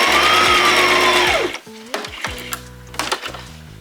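A sewing machine stitches across a pleat on a Christmas puff quilt: a loud, fast run of needle strokes, then short bursts of stitching separated by pauses and clicks.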